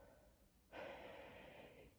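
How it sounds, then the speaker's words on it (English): A quiet yawn: a faint, breathy exhale rises suddenly and drags on for over a second, close to the microphone with no talking. "Sorry for the yawn."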